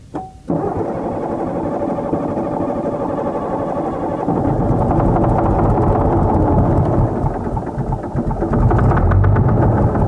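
A Case 1150 dozer engine runs steadily at throttle, a loud, continuous, close rumble that swells louder toward the end as it is opened up further.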